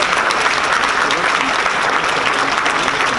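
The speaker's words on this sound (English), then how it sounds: "Let's give them a round of applause." A room full of people applauds Rotary club members being called up for recognition, continuous dense clapping that holds steady and loud throughout.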